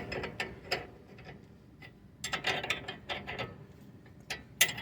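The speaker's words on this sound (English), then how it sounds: "I've got the tie rod end tool in place, and so should just be able to do this." A tie rod end tool being tightened down by hand on a 2009 Toyota RAV4 suspension: a series of small metallic clicks and ratcheting turns, close but fairly quiet, with a brief sharp click near the end.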